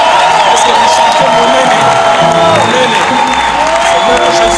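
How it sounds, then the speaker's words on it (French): Church congregation at a seminar service applauding and cheering loudly, dense clapping mixed with shouts, whoops and raised voices, filling the room throughout. "Est-ce qu'on peut offrir une offrande d'acclamation?"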